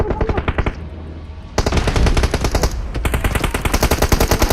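Gunfire in the battle-royale game PUBG Mobile, with rapid bursts of loud automatic fire in quick repeated shots, a short lull, then more sustained close bursts.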